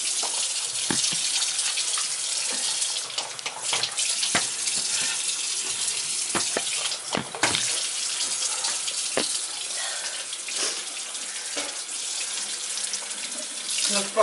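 Tap water runs steadily into a sink while pepper-spray-stung eyes are rinsed, a continuous splashing stream with occasional brief knocks and movements close by.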